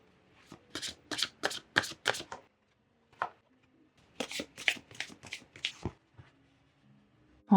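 Oracle cards being shuffled by hand in two bursts of rapid riffling, each a quick run of crisp flutters, separated by a pause with a few soft card taps, close and clear with no talking.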